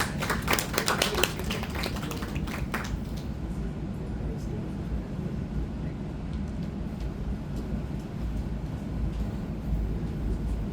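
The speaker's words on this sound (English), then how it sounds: "Round of applause." A conference audience at an academic session gives a brief burst of clapping for about three seconds, sharp rapid claps fading into a steady low room hum.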